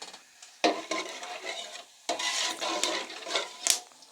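Food frying in a cooking pot over a high flame for pulao, bursts of loud sizzling and stirring scrapes separated by short quieter gaps, close up with no talk.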